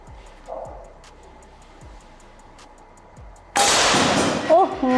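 A Rahwana PCP air rifle fires one sharp, loud shot at a target, with faint ticking before it and a burst of noise right after.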